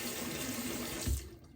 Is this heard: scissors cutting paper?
no